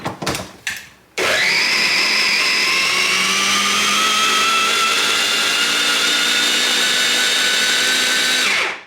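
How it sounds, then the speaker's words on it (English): A blender blitzes garlic into a curry paste for a coconut prawn curry, starting after a few brief knocks and then holding a loud, steady whirring drone until it cuts off near the end. "I'm just going to blitz this into a paste"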